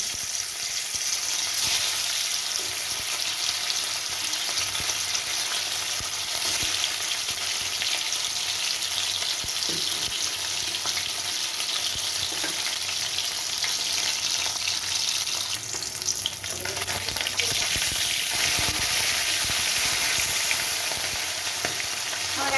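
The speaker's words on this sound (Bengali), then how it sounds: "এবার এর মধ্যে আস্তে আস্তে মাছটা ছেড়ে দেবো" Hilsa fish fries in hot oil in a wok, a continuous close sizzle and crackle with faint stirring, steady for the whole stretch with no talking.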